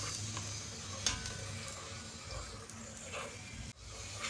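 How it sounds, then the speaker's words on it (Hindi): Onions sautéing in hot oil in a pan for kofta curry, a soft continuous sizzle with a few stirring clinks, fairly quiet, no talking. "अब मैं प्याज को थोड़ा सा सोते करूँगी।"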